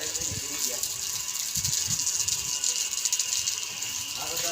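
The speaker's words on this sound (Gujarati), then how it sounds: "પાણી પડે" Water pouring down in a steady, hissing stream, continuous and fairly faint, with low knocks and rattles beneath it.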